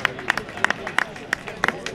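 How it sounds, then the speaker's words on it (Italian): Scattered hand claps from a small crowd at an amateur award ceremony greet winner Lorenzoni, sparse irregular claps over low background murmur. "Applauso per Lorenzoni"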